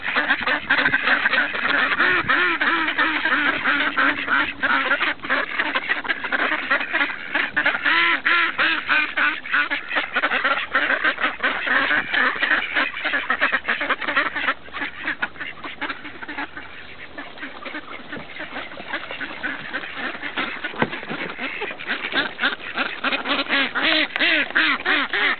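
A group of ducks quacks nearly nonstop, close and loud, with overlapping harsh calls and some honking throughout.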